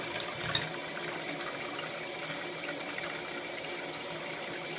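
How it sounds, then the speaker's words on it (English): Tap water runs into a coffee maker part in a kitchen sink full of dishes, making a steady, fairly quiet rushing flow with a brief splash near the start. "So you just put this in the sink, which is currently full of dishes. And add water to it."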